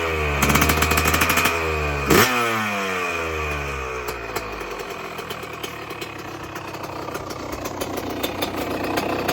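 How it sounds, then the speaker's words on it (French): A cold motorcycle engine idles low and steady, a loud, even rumble with a harmonic hum that settles after a brief rev near the start, with no talking. "Elle tire le ralenti. Le ralenti, il est bas, elle est froide."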